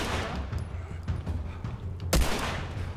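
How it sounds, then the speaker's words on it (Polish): Gunfire in The Last of Us video game, scattered shots over a rumbling game soundscape with one sharp loud blast near the end. "Chyba jeszcze jeden strzał i będzie po nim."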